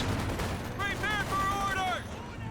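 Grenade blasts and gunfire in a World War II strategy battle, rumbling low explosions and rattling shots under a voice that runs through much of the clip, fairly faint overall.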